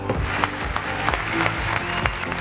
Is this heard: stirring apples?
no